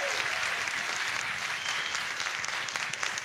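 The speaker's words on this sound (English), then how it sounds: "give a big applause to Elva, my makeup artist" Audience at an artist talk applauding the makeup artist, a dense, sustained round of clapping from a room full of people.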